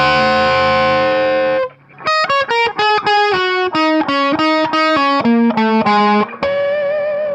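An electric guitar played through distortion and effects first sustains a thick chord. A quick run of picked notes follows, stepping downward in a steady rhythm and ending on a ringing harmonic, loud and close.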